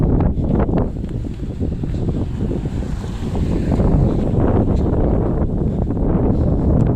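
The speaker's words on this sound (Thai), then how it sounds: "ลมแรงมากเลย" Strong wind roars continuously across a mountain road, buffeting the microphone with a heavy rumbling rush that grows slightly stronger partway through, with no voices.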